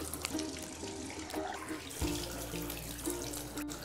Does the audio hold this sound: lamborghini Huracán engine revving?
no